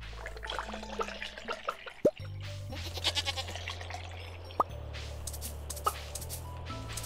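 Goats bleat in the farming game Stardew Valley, several short, quavering cries rising above a looping game soundtrack with occasional water-drip effects and tonal chimes, no speech.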